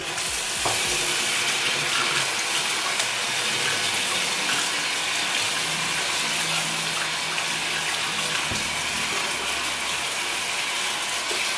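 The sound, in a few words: water running in sink while washing houseplants, leca pebbles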